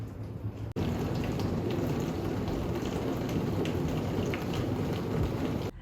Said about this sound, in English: while it's storming out. Thunder and lightning and rain and spooky shows.